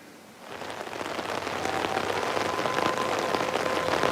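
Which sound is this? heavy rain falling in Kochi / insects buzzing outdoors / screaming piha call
heavy rain falling in Kochi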